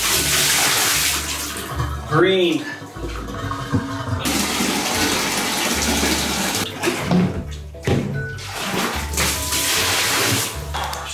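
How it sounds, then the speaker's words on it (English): Water emptied from a tank into a bathtub, a loud gushing pour that breaks off briefly and resumes, with short bits of talk between the splashes. "Now we're going to take the tank and empty the water."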